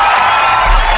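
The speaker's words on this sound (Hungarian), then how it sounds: "Nem tudjuk elhallgatni ezt a tapsot." Studio audience of a live morning show roars with dense, continuous applause and cheering, loud and close, a steady wash of sound with no breaks.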